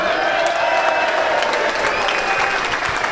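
Football fans at the Scarborough v Warrington play-off final applaud alongside the players, steady crowd clapping with a hint of cheering throughout, voices audible within it.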